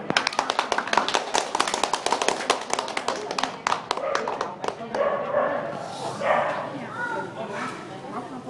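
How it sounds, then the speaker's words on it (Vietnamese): A group claps hands at a birthday celebration for a mother reaching one hundred years. Rapid, dense applause fills the first half and then thins out, with voices talking throughout. "Vỗ tay."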